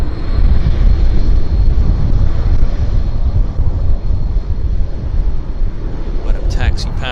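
An airplane taxiing at Vancouver International Airport (YVR) gives a loud, steady low engine roar with wind buffeting the microphone throughout, and a brief higher whine near the end.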